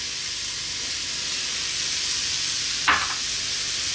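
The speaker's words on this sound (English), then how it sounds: "we're gonna drop in those mushrooms." Mushrooms frying in a hot pan for a garlic mushroom tuna melt: a steady, even sizzle and hiss throughout, with a brief louder crackle near the end.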